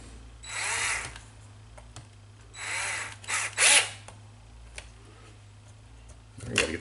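An electric driver set to a low torque setting runs down small 2.5 and 3mm bolts in several short whirring bursts with brief pauses between, close up, over a steady low background hum.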